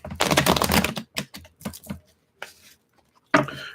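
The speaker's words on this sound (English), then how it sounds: "All right, last shuffle" Tarot cards are shuffled in quick riffling bursts, a dense flurry followed by several shorter snaps and pauses, close and crisp.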